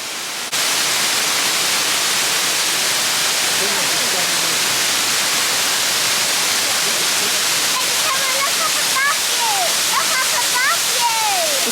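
Water drips and falls like rain inside the rainforest dome at the Eden Project, a dense, steady hiss of droplets throughout. Children's voices and squeaky exclamations rise over it near the end.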